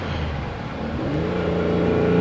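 A 1975 Ferrari 365 GT4 2+2 with its 4.4-liter V12 engine pulls on a road, a steady loud drone from inside the cabin that climbs in pitch as the car accelerates, with no talk.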